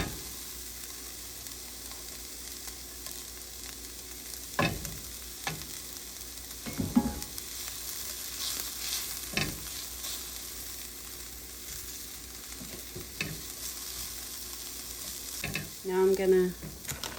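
Garlic fries in a pan with a steady low sizzle, broken by several sharp scrapes and knocks as a utensil stirs it, heard close and without talk.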